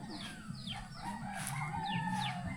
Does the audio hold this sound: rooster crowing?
yes